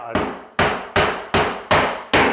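A hammer drives nails into the first course of interior wall cladding: six sharp, loud strikes land at a steady, close rhythm, each ringing briefly before the next blow.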